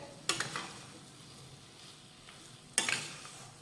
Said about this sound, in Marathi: आता वेलची पावडर आणि काजू बदामाचे काप घातल्यानंतर एकदा मिक्स करून घेऊयात